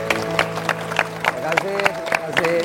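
A crowd applauds with steady clapping over background music, the clapping loud and sustained throughout.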